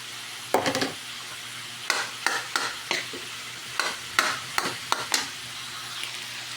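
Cooked rice gets tossed and stirred in a hot pan for fried rice, with a continuous sizzle broken by a series of sharp scraping and clattering spatula strokes at an irregular pace.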